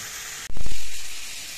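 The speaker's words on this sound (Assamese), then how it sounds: "মাংসখিনি তল ওপৰ কৰি এনেদৰে লৰাই দিয়ে" Chicken curry meat stirred in a hot pan lets out a sudden loud sizzle that bursts up and slowly fades, over a constant background hiss.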